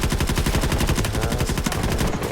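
Rapid automatic gunfire in the mobile shooter Delta Force Mobile: a dense, continuous rattle of shots, loud and close throughout, with no talk over it.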